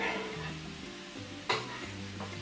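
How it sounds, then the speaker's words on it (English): Vegetables for a vegan paella sizzle steadily in a hot pan while being stirred, with a low pot-scraping rumble and a sharp clatter about two-thirds through; close and moderately loud, no voices. "Give them a good stir."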